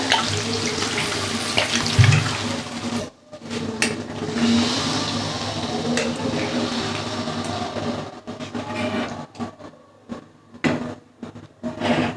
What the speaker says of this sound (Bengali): আমি এবার জল দিয়ে দিলাম